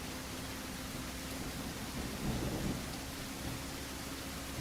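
Steady rain pours in a video game, with a soft low rumble of thunder swelling briefly partway through against the constant wash of rainfall, and no talking.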